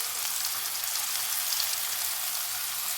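Turmeric, chilli, coriander powder and garam masala sautéing with softened onions in a pan over medium flame for Chettinad cauliflower gravy, a steady, even sizzle throughout with no voices.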